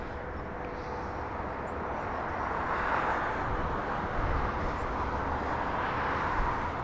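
GE90 jet engines on an airliner at LAX give off a steady, broad, distant roar that swells slightly and holds without any voices.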